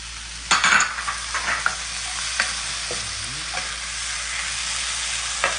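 Stink beans go into a pan with shrimp and shrimp paste and are stir-fried, a steady close sizzle under a few sharp spatula scrapes and clinks, loudest at the start.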